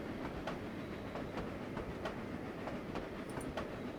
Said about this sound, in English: This train does not stop at the station.